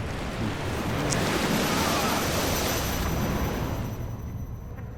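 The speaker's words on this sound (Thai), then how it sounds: "ทะเลสีแดง" Red sea waves from the video game The Evil Within roll and surge in a loud, continuous wash with windy rumble, swelling in the middle and easing slightly toward the end.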